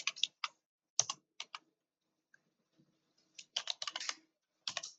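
Keys clatter on a computer keyboard in short, uneven bursts of quick taps with brief pauses between them. The close, crisp clicks play alone against near silence.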